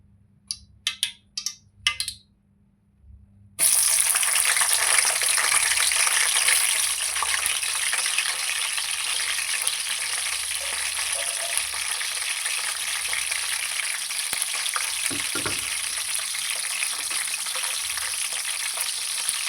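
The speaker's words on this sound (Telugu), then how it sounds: "ఆయిల్ హీట్ అయినాక దాంట్లో పచ్చిమిర్చి వేసుకుందాం." Green chillies are dropped into hot oil for a fish curry, setting off a sudden loud, steady sizzle that runs on continuously after a few brief knocks at the start.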